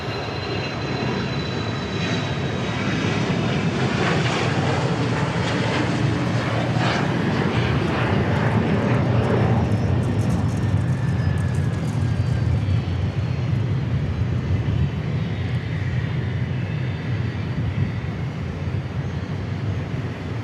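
A Southwest Airlines jet departs Dallas Love Field, its engines producing a loud, sustained broadband roar that holds steady throughout, with a rising whine heard early on.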